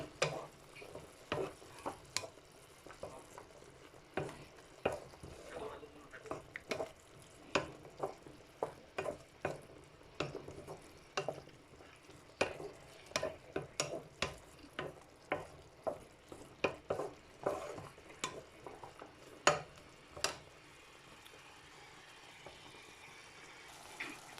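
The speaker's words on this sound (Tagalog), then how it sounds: "Haluin natin." Mushrooms and potatoes cooking in a pan are stirred with a utensil, giving repeated scraping taps over a soft sizzle, close but fairly quiet.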